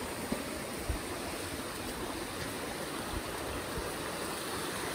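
A stream used for household water flows over rain-slick rocks, producing a continuous, close rushing and gurgling wash with a few faint knocks and no talking.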